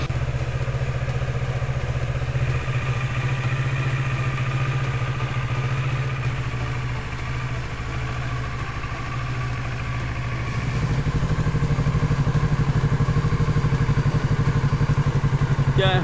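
A 2018 Kawasaki Z650 ABS motorcycle engine idles steadily at close range, a low throbbing rumble that grows slightly louder and fuller partway through, with light mechanical clatter and no talking.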